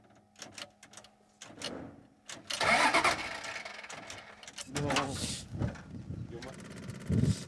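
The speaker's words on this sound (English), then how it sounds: "The engine's just shot. This happens quite a bit," An old, worn-out reserve vehicle engine in Namibia cranks repeatedly and fails to start, with sputtering bursts and grinding turnover attempts close by, while people talk over it.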